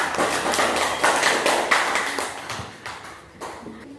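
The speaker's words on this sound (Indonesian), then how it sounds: "Tepuk tangan dulu untuk kelompok 4." A classroom group claps for a student group after their presentation, a brisk patter of hands that gradually fades, with faint voices.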